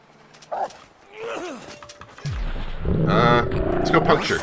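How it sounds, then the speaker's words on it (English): A wolf snarls and growls in The Long Dark, with rough, rising growls intensifying toward the end while someone speaks over parts of it. "Wolf is scared."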